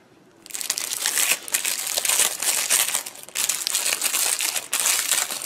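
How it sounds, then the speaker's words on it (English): Plastic wrapping is peeled off a wireless camera, giving loud, close crinkling and crackling in two long bursts with a short pause between. "There is this plastic to remove, and this will release the battery"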